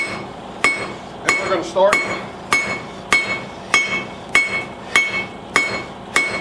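Rhythmic metallic hammer blows ring out at a steady pace, about ten sharp strikes of a round-faced hammer forging hot railroad spike steel, close and loud, with a brief spoken phrase between them.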